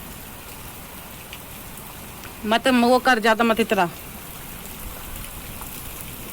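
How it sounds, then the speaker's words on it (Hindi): Heavy rain pours steadily onto a home courtyard as a continuous loud hiss, and a person speaks briefly over it midway. "देखो कितनी तेज़ बारिश आ गई है"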